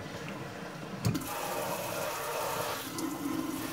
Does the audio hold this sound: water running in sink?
yes